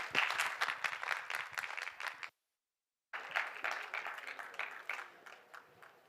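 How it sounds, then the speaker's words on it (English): Audience applause welcoming a speaker onto the stage at a COP28 event hall, dense steady clapping from a sizeable crowd that breaks off briefly in a silent gap, then resumes and continues at a similar level. "Let's please give Richard a huge round of applause and a great welcome onto our stage."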